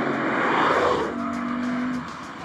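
A Lexus RC-F engine drones loudly through paddle-shifted gear changes, its tone dropping at a shift around the midpoint and easing off near the end, heard close from inside the car.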